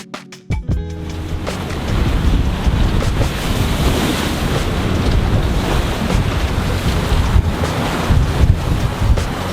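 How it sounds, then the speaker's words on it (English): Strong wind roars over open sea on a sailboat heading straight into the trade winds, a dense, constant rush of gusts with waves breaking and wind buffeting the microphone, and no voices. "it was directly into the wind"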